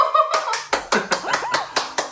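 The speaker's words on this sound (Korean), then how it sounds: "물개 박수" Enthusiastic seal-style clapping at a home surprise anniversary gift, a steady run of about eight loud, close hand claps at an even rhythm, with brief excited voices at the start.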